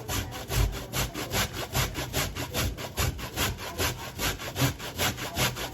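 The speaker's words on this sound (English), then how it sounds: "Just grating my potatoes" Sweet potatoes being grated by hand for dumplings, a steady back-and-forth rasping with regular strokes roughly six per second, close and fairly loud, no voices.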